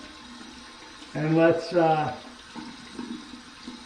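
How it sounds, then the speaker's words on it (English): Cold tap water runs briefly over an alum block during a head shave, a short splashing stream under a man's speech, then a quieter trickle. "let's get the alum block here and run it under some cold water"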